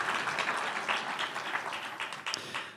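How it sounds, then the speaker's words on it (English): Applause for the day's event from the audience at the closing remarks of the Athens Roundtable on AI and the Rule of Law conference, steady and moderately distant clapping that continues throughout without any talk. "quick round of applause for this beautiful event so far today"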